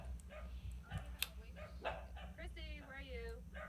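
A dog named Sparky barking and yipping in a spooky Halloween video game, short whimpering barks heard under people chatting over the game audio.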